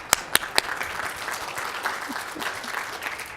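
Conference audience applauding, a few sharp claps at the start giving way to dense, steady clapping from a mid-sized crowd at moderate volume.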